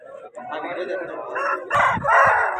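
A rooster crows loudly and close at a chicken market, a long strained call with clucking fowl around it and market voices talking underneath.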